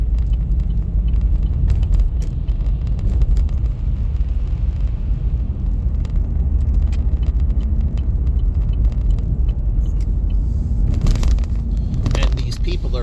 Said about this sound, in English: So I'm down on the highway right now